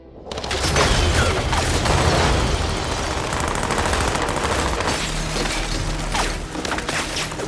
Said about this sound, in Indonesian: tiba-tiba mereka bertiga diberondong tembakan oleh anak buah Lyot yang sudah berada di luar rumah Bu Iroh